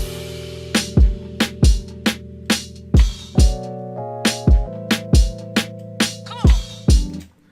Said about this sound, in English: The next thing we added was a crash that sounds like this.